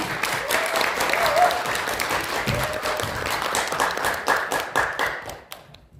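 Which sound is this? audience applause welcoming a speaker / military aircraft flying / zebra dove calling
audience applause welcoming a speaker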